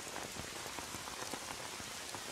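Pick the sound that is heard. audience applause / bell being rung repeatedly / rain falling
rain falling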